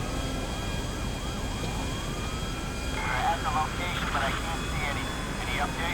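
A stolen airplane flies in the game GTA 5 amid a police chase, a steady engine drone with sirens and wailing tones layered over it, while someone talks over the game sound.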